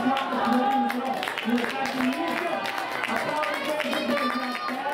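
Applause and crowd noise after the third 800 m heat at an athletics meeting in Trento, scattered clapping and general murmur under steady announcer-style talk throughout.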